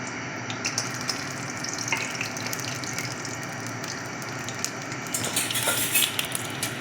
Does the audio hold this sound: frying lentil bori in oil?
yes